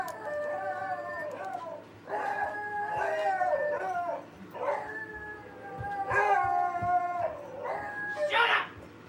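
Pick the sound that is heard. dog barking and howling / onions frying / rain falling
dog barking and howling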